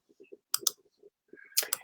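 A few quick, sharp clicks, like a mouse button, stand out among soft, quiet tapping and low rustles.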